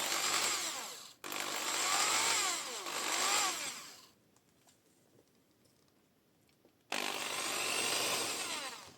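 Power drill boring holes for shock mounts during a 4-link conversion on an MN82, two loud sustained bursts of drilling separated by a brief pause and a quieter stretch of workshop ambience in between.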